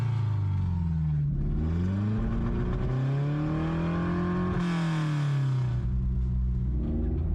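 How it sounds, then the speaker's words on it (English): A Mercedes engine pulled from a swamp after sitting abandoned, warming up just after its first start. It runs steadily close by, its pitch swelling and dropping with gentle revs before settling back to idle. "Warming up the engine a bit."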